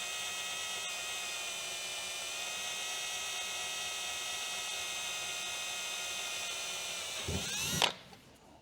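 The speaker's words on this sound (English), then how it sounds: "And I'm drilling on a tube." A high, whining power drill runs steadily for several seconds drilling into a metal tube on an ultralight airplane, then bogs down briefly before cutting off abruptly.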